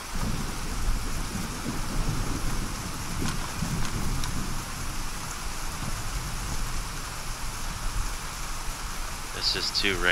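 Heavy rain pours with rolling thunder in a foggy DayZ game world, a dense, continuous roar throughout with low rumbles swelling underneath.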